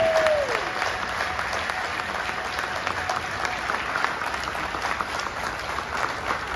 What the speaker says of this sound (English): give an enormous round of applause to every ArtsQuest staff member and their families